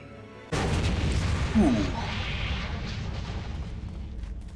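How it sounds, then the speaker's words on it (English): A heavy explosion in a spooky mansion video game map erupts suddenly, followed by a loud, sustained rumbling roar that slowly tapers off. "Back away, just in case the explosion gets a bit too much."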